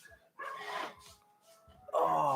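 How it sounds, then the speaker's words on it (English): Dogs nearby bark and whine in a few short, tonal bursts, ending with a louder, drawn-out yelp close to the microphone. "tell the dogs to shut up"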